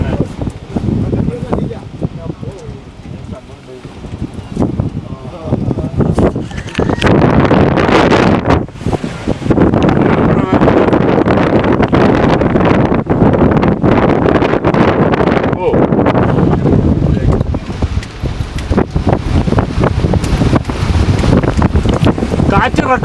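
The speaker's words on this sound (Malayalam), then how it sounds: "കാറ്റ് റെക്കോർഡ് ചെയ്യാം." Strong wind at Nelliyampathy buffets the microphone in loud, roaring gusts that rise and fall over twenty seconds, with voices faintly audible beneath.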